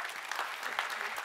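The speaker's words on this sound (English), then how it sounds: "And another clap." Brief, fairly faint audience applause in a conference hall during a climate solutions session on cities, scattered clapping continuing evenly for just over a second.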